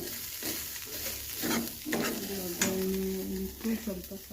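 Mustard seeds for a tempering sizzling in hot fat, a crackling sizzle with scraping stirs and metallic clinks of a spoon on the pan, close by, with no voices.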